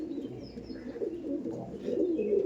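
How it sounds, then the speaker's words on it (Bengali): An Andhra pigeon held in the hand gives soft, low, continuous cooing, quiet and close, with faint background chirps and no speech. "আন্ধ্রা পায়রা হাতে নিলে এরকম ডাকে"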